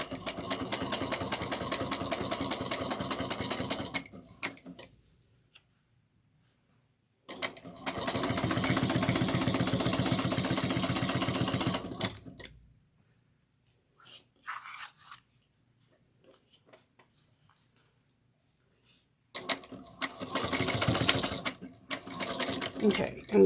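A sewing machine stitches and backstitches a zipper pouch in three loud, rapid bursts of needle chatter separated by quiet pauses with light handling clicks.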